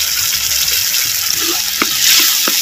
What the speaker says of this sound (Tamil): சேர்த்த தக்காளி பழ விழுதுகள் நல்லா பச்சவாடை போகிற அளவுக்கு நல்லா வதக்கிட்டுருவோம்